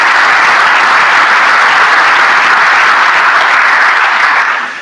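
Loud, dense applause from a conference audience, a steady wash of many hands clapping together for several seconds before tapering off at the end.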